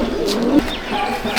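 Andhra pigeons in a loft give a soft, close coo alongside faint chirps, clear and near with no voices over them.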